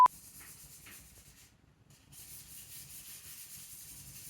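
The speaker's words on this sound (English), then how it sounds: "sanding down and keying the frame is done" A bike frame is sanded down and keyed outdoors: close, steady rough rubbing strokes, a brief pause near the middle, then continuous scratchy sanding.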